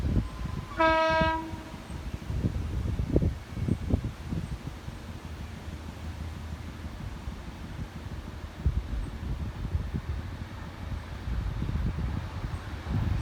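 A train horn sounds briefly near the start, followed by the steady rumble and clatter of a train rolling past a level crossing at moderate distance.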